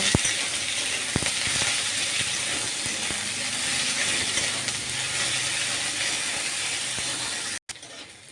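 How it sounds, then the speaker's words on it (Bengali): Sliced onions fry lightly in oil with dried red chilies in a pan while a mushroom dish is being made. A continuous close sizzle runs the whole time with a few scraping clicks, then cuts out briefly near the end. "পেঁয়াজটা দিয়ে একটু হালকা করে ভেজে নেব"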